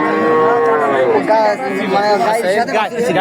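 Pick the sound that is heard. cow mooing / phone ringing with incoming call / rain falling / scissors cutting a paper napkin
cow mooing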